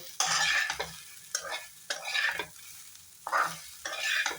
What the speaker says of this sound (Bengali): পেঁয়াজটা দিয়ে আবার মিলিয়ে নেব